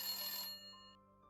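An old-fashioned telephone bell rings loudly in a bright metallic burst, then cuts off, leaving a ringing tail that fades away.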